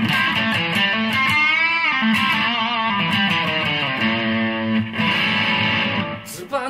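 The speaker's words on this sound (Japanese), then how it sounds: "試しにね、SG も歪みで。" Gibson SG electric guitar played through distortion, sustained overdriven chords ringing loud and close for several seconds with a thick, saturated tone and no talking.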